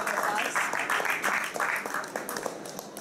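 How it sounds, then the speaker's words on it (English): Audience applause at a high-level climate change panel at COP23 in Bonn, a steady wash of many hands clapping for several seconds, fairly loud and filling the room, with some voices mixed in. "Please give her a round of applause, ladies and gentlemen."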